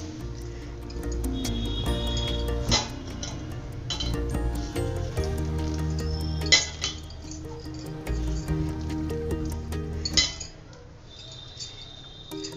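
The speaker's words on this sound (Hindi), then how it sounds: "खूब दबा दबा का इसका पानी निकाल दें" Soaked soybeans are squeezed by hand to press out water, giving soft wet squishing and dripping sounds mixed with occasional clinks of a bowl or utensil in a kitchen, with faint background noise.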